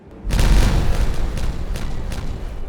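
Explosive blasting in a beaver dam-building game: one loud, deep boom opens the clip and rumbles on, with a few fainter bursts trailing behind it, no talking.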